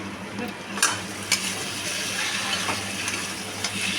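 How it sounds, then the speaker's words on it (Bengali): Mutton sautés in oil in a pan, a steady, close sizzle punctuated by a few sharp spoon clinks and scraping stirs, with no one talking. "দেখুন ভালোভাবে সুন্দরভাবে কষিয়ে নিচ্ছি মাংসটা দেখুন তেল ছাড়তে শুরু করে দিয়েছে"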